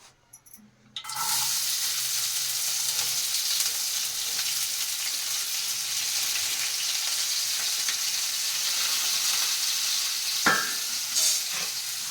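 Spices for a chicken curry tempering in hot oil burst into a loud, close sizzle a second in, then keep up a steady hissing crackle, broken briefly by a stir near the end.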